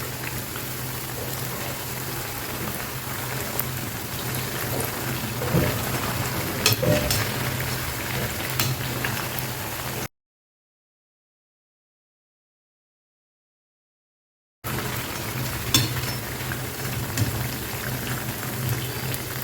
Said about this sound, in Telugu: వేసేసి మొత్తం కలుపుతూ ఇలా రౌండ్గా తిప్పుతూ వేపండి